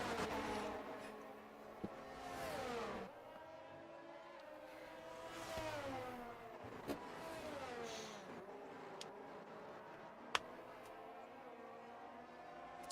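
A Ferrari race car in a racing game on its outlap at the France Sprint, engine revving up and down through gear changes with a few sharp clicks, heard under a commentator's voice.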